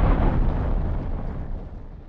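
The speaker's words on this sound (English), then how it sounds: "There's the initial explosions layer of just kind of the actual impact of the crash." A deep, rumbling crash-landing impact explosion hits at once and slowly decays, a heavy low roar fading over about two seconds.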